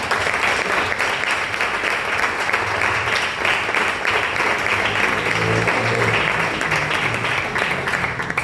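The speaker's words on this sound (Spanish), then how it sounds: "Denle un aplauso al Señor por eso" Congregation applauding the Lord during a Spanish-language church sermon: a dense, steady wash of many hands clapping, sustained and loud throughout, with faint voices mixed in.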